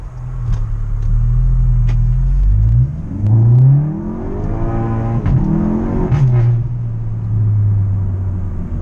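A BMW M235 fitted with a sports exhaust accelerates on a street at night: a loud, close engine drone rises through the gears with audible shifts, its exhaust note climbing and falling before settling into a steady cruise.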